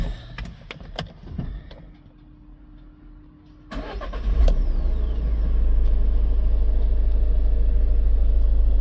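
Clicks and a starter crank lead to a 2020 Toyota Proace 2.0 diesel van engine catching; a loud, low diesel rumble then settles into a steady idle close by.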